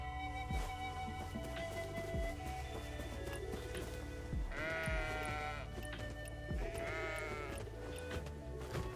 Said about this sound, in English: I can ride the goat.